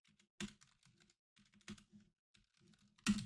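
Fingers type on a computer keyboard close up and quietly, tapping out a prompt in uneven clusters of soft key clicks punctuated by a few louder strikes.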